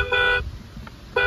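Horn of a 12V toy electric ride-on jeep, powered by AA batteries in the steering wheel: two short electronic beeping honks with a gap between, close up over faint background hum.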